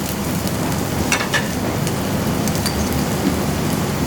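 Garlic sizzling in a hot pan with shallots already frying, a dense, steady crackling hiss that stays loud and close throughout, with light stirring clicks and no voices.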